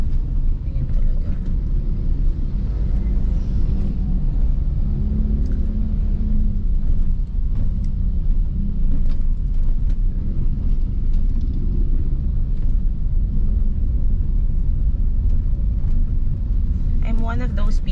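Busy street traffic with cars, motorcycles and bicycles passing, a constant loud low rumble of engines and road noise with wind buffeting the microphone throughout, no clear separate vehicles standing out.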